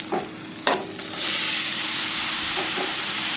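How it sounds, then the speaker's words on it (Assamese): Pork pieces sizzle and crackle loudly in a dry, oil-free kadai, with a steady frying hiss that swells after a couple of stirring scrapes near the start and holds without talk. "এয়া মই মাংসটো দি দিছোঁ শুকান কেৰাহীটোত।"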